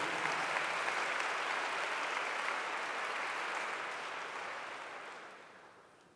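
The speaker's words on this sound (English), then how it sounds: "let's give a round of applause for those guys" A large audience applauds, a thick wash of clapping that holds steady and then gradually fades out.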